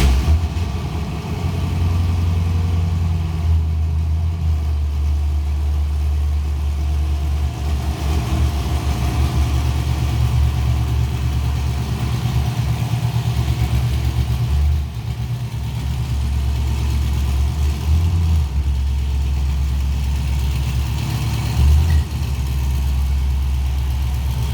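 A Chevrolet Silverado NBS truck engine idles steadily and close for the whole stretch, a continuous low rumble with slight variations as the truck is moved, no talk over it.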